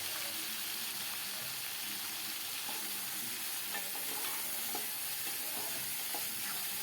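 Garlic and cumin frying in a pan make a constant, close hiss of sizzling oil, with faint scrapes of stirring running through it.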